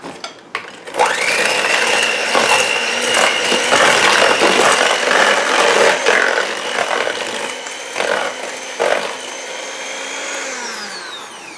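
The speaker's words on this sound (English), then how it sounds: "it's probably a good time to stop using the blender" Electric blender beating sugar cookie dough with vanilla beans, a loud continuous motor whine that strains and wavers as the thick dough loads it, running steadily for several seconds before winding down.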